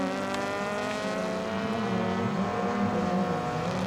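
A 600HP Subaru rallycross car idles and burbles loudly at a rallycross start line in Florida, its steady engine drone holding close and continuous with slight pitch wavers throughout.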